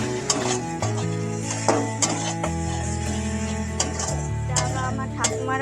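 Fish curry is stirred in a pan, with repeated sharp scrapes and clinks of a utensil against the metal over a low hum and a faint sizzle, close and steady, no voices.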